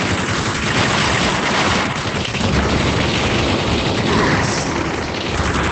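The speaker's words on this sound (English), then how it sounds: "Guys, stop shooting. Stop that." Dense, continuous gunfire from the VR shooting game Aim XR at a gun range, loud booming shots overlapping into a sustained barrage with no clear gaps.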